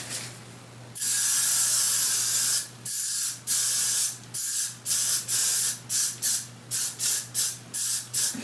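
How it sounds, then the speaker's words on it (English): Hairspray hisses from an aerosol can onto hair, first as a long steady spray and then as a run of short quick bursts, close and clear with nobody talking. "you would think that this is a lot of hairspray, but it's not"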